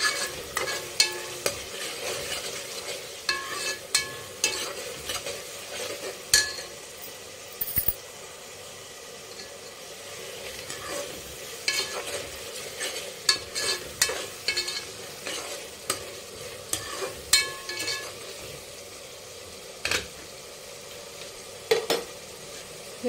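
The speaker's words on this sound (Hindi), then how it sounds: "मेथी की भाजी और पुदीना। इसको अच्छे से मिक्स कर लेंगे।" Fenugreek leaves and mint are stirred in a hot pan, a low, even sizzle broken by irregular spatula clicks and scrapes against the metal, with no talking.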